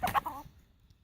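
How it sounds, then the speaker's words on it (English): A rooster in a backyard chicken shelter lets out a quick burst of three or four clucks, close and moderately loud, then goes quiet. "Oh, you're a noisy rooster"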